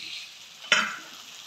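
Potatoes sauté in a frying pan during preparation of a raw banana kofta curry, with a soft steady sizzle and one sharp stir or scrape midway, close and fairly quiet.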